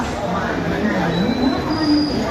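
A train rumbles steadily in motion, with a thin metallic whine rising and falling above the low, continuous clatter; a faint voice is mixed in.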